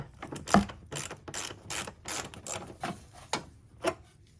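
A socket wrench ratchets on the battery bracket bolts of a Honda Ridgeline, a series of quiet close clicking bursts at an uneven pace, with no speech.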